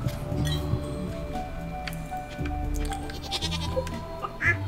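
A farm goat bleats in the Stardew Valley video game, a few short nasal calls sitting over steady background game music and small clinking effects.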